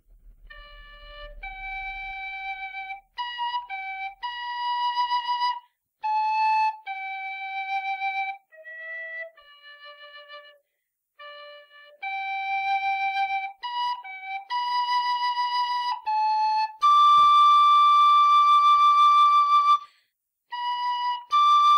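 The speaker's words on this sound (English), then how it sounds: "grab a whistle in D" A tin whistle in D plays Amazing Grace slowly and alone, a clear melody with pure high notes held and separated by brief pauses.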